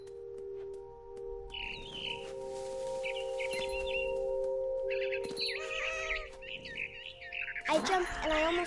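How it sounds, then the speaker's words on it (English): A barn swallow chirps in the video game What Remains of Edith Finch, with short bright twittering bursts that come and go over a steady electronic hum and end in a sharp flurry. "Then I heard chirping outside my window. It was a barn swallow going back to her nest."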